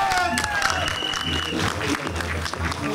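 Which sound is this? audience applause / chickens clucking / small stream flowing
audience applause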